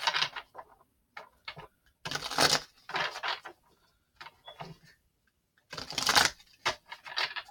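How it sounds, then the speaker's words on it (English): Bursts of crisp riffling and clicking tarot cards come in several separate rounds with quiet gaps between them, close and fairly loud, with no talking. "we're going to shuffle these cards"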